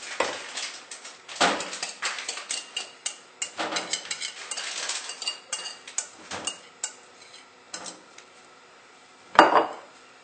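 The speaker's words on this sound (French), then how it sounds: "La préparation, je la remets dans la casserole." Custard preparation for crème pâtissière is poured back into a saucepan, with a run of sharp metallic clinks and clatters from the pot and utensils, irregular and close, ending in one louder knock.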